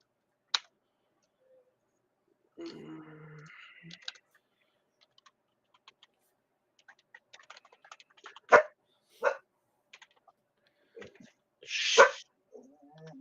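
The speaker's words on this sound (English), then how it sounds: "there's some neighbor dogs that he likes to go outside and bark at" A few sharp dog barks, sporadic and a little distant, separated by quiet gaps with light clicking and faint background noise.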